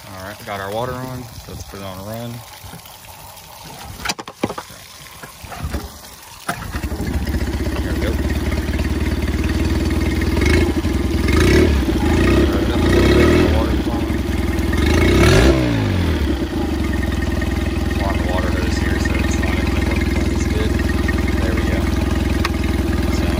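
A Mercury 8 hp outboard motor fitted with a new impeller catches after a few start attempts, then runs steadily and loudly, its throttle rising and falling around 15 seconds, with water churning beneath the engine noise.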